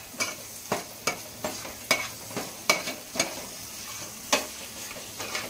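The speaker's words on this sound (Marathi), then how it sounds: "कांदा परतून घ्यायचा मस्तपैकी।" Onion sautés in a pan for pav bhaji under a soft sizzle, punctuated by regular sharp scraping strokes of a spatula, roughly one or two per second, close and without speech.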